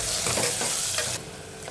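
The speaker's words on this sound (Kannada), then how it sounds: "ಒಂದು ಆನಿಯನ್ ಕಟ್ ಮಾಡಿದೆ, ಹಾಕಿದ್ದೇನೆ. ಒಂದು ಸ್ವಲ್ಪ ಫ್ರೈ ಮಾಡ್ಕೊಳ್ಳೋಣ ಇದನ್ನು." Chopped onion sizzling in hot oil in a pan for a vegetable kurma, a steady bright hiss with stirring scrapes, which drops to a softer sizzle partway through.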